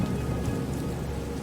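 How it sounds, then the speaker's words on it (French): Heavy rain pours in a dense, steady hiss with no let-up, loud and close for the whole short stretch. "La pluie devenait de plus en plus intense."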